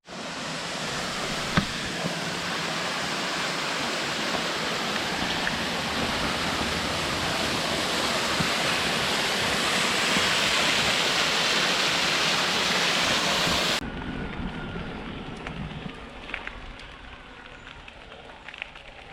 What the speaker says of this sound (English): Nice big flying waterfall with water that you can drink.